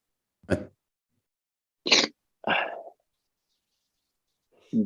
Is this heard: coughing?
yes